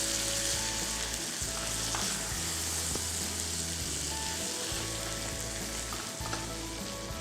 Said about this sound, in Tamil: நல்லா மிக்ஸ் பண்ணிக்கலாம் கத்திரிக்காயை